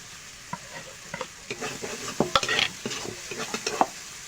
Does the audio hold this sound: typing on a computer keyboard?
no